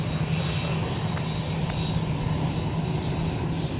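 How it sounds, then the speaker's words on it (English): A Delta Airbus A321 jet taxiing past close by on an airport taxiway, giving a steady loud engine drone with a low hum, heard alone without talk. "So we just had an A321 taxi by right in front of us on taxiway Whiskey."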